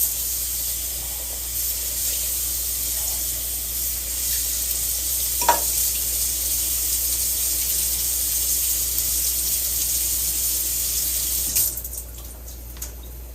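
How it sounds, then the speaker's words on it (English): Water from a kitchen tap runs steadily over a can being rinsed, a continuous close splashing hiss with a brief clink partway through and a change in the spray near the end. "Okay, so I'm just going to rinse the can."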